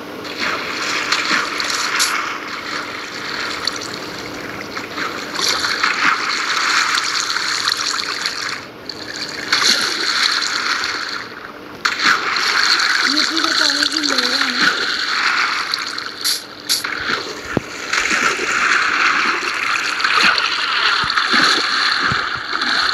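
Continuous trickling and splashing water from a Minecraft underground base, a steady loud flow running throughout with a few brief breaks and some faint background sounds.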